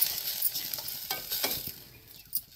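Tomato and ginger garlic paste sautéed in a pan, a close, bright sizzle with scraping stirs of a spoon that come in bursts, no voices.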